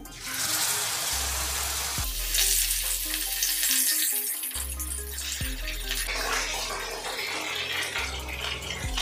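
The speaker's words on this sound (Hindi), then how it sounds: "चलिए अब और हमारे फिश जो है उसे भी फ्राई कर लेते हैं।" Spicy masala-coated fish frying in a pan: a loud, steady crackling sizzle that fills the whole stretch, with low tonal hums and occasional shifts as pieces settle, no voices.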